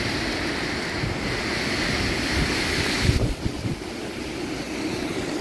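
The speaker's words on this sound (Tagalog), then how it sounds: "Mahangin oh. Sumisipol." Strong typhoon wind roars steadily into the microphone on a mountaintop during Super Typhoon Uwan, with broad rushing, whistling noise and low buffeting gusts throughout, loud and close.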